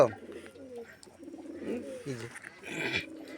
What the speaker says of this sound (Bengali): কতগুলো কবুতর দেখছ